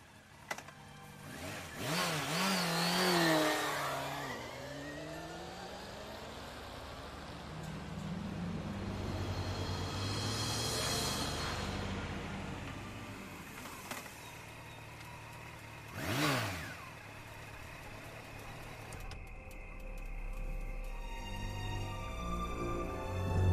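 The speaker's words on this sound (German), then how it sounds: "Mein Motorrad. Okay, können wir mit dem jetzt fahren?" A motorcycle engine from the video game Geheimakte Tunguska revs and rides past in several swelling passes, rising and falling in pitch, with the roar sometimes close and loud and sometimes fading off, and no speech over it.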